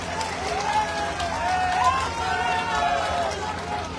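Audience at a political rally in Delhi claps steadily in a dense, continuous wash of applause and crowd noise, with an amplified voice speaking over it throughout.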